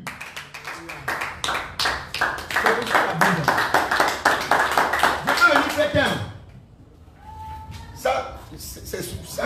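A church congregation claps in fast, steady rhythm for several seconds while voices cry out and acclaim Jesus, then the clapping fades into quieter scattered sounds and speech.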